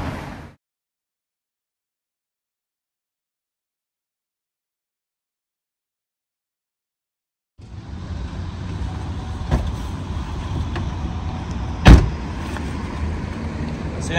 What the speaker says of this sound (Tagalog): nandito na ngayon tayo sa Banff at nandito ngayon tayo sa parking lot